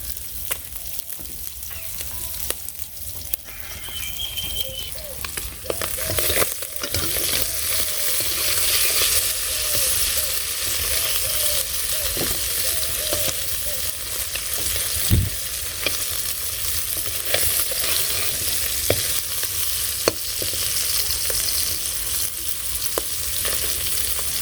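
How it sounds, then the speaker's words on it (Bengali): Fish fry in a pan with a steady, dense sizzle that runs loud and continuous throughout, with occasional clicks and stirring noises and no talk. "মাছগুলো ভাজা হয়ে গেল"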